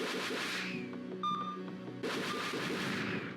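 Gunfire from the PlayStation shooter Kileak: The DNA Imperative, heavy booming blasts in two loud bursts separated by a brief lull with electronic tones.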